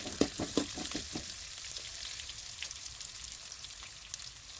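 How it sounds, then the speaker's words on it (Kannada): Urad dal and chopped onions frying in a pan, a soft steady sizzle with a few quick stirring scrapes at the start. "ಉದ್ದಿನ ಬೇಳೆನ ಹಾಕಿ ಅದು ಸ್ವಲ್ಪ ರೆಡ್ ಕಲರ್ ಬರಲಿ ಹಾಗೆ ಫ್ರೈ ಮಾಡುವ"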